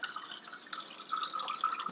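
Water is poured into a Mavea Elemaris XL filter pitcher with a soft, steady trickle and splash, fairly quiet and close.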